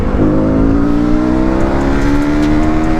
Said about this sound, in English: You see right now I'm on the third gear, 42 speed, and then I'm going to just pull the throttle.